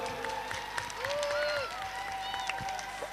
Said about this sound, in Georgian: ცოტა უფრო მეტი აპლოდისმენტები გამაგონეთ